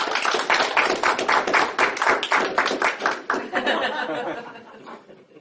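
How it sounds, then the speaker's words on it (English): Audience applause for a volunteer at a magicians guild open house magic show, a dense burst of clapping mixed with laughter that gradually thins and fades out. "Ladies and gentlemen, give Sam a round of applause"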